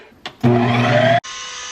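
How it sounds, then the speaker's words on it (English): A Ninja ice cream maker churning a light ice cream mix gives a loud, steady mechanical whirring and rattling for under a second as the machine shakes, then drops to a quieter, even motor hum. "The machine was totally shaking and I haven't seen it do that yet."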